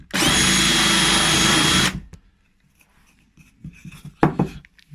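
A power drill bores a hole while fitting a micro tilt kit, whining loudly and steadily for about two seconds before cutting off, followed by faint clicks and handling noises.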